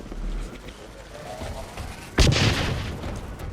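A grenade from the shooter game Blacklight Retribution detonates after a quiet stretch of faint game ambience, landing as one sudden loud boom that rolls out in a long decaying rumble.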